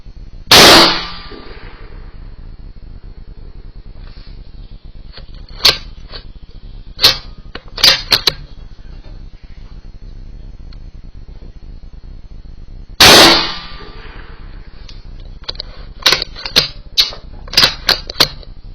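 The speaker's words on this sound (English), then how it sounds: "I just shot 3 shots through my 17 HMR at that" Three .17 HMR rifle shots fired at a metal target, each a sharp loud crack, with the first and last shots well separated, followed by scattered faint clicks and small metallic knocks in between.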